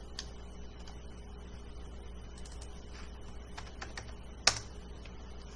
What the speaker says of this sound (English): So I type in the correct height it's supposed to be at